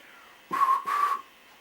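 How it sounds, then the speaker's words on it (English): Two short, steady whistle tones sound one after the other, clear and fairly loud against a quiet background, the second slightly longer than the first. "She sounded a whistle."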